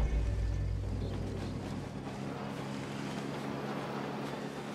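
A vehicle engine in the video game Ghost Recon Breakpoint gives a low, steady droning rumble, strongest at the start and then easing to a constant hum, with no talking.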